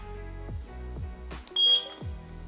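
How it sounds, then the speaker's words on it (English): A eufyCam 3 home base gives a short, high electronic sync beep near the end, one clear tone over a faint, steady electronic hum. "Press the sync button until you hear the beep."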